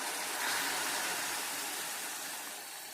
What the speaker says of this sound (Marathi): या मसाल्यामध्ये आपल्याला गरम पाणीच घालायचं आहे